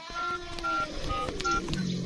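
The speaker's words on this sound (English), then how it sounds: "A mobile phone. Emergency number 333." A mobile phone keypad beeps as an emergency number is dialed, a few short separate tones in an irregular rhythm, close and clear, with faint background sounds.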